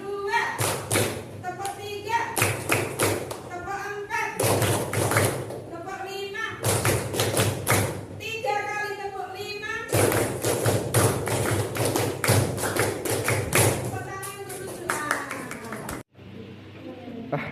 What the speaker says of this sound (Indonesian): tepuk tunggal, tepuk ganda, tepuk triple, tepuk tangan untuk kalian